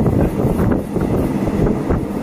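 Ordinary train No. 255 heading to Hua Hin station rumbles steadily from inside, a loud continuous low roar with rhythmic rattling and wind noise, with no talk.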